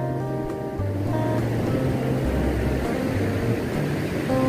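Ocean surf at Karang Payung beach in Gunturharjo, Paranggupito, rolling in as a steady broadband wash, with low tonal hum from a nearby boat motor drifting in and out.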